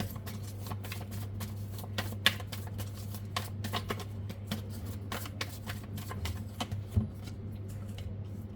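Tarot cards being shuffled close up, a steady papery riffle and patter of cards running for several seconds with a few sharper snaps, over a low constant hum.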